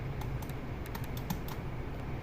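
Quick, light clicks of a computer keyboard being typed on while entering a formula in a spreadsheet, close and fairly quiet, in short irregular bursts.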